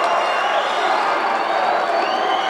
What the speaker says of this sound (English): This crowd is so pumped up right now.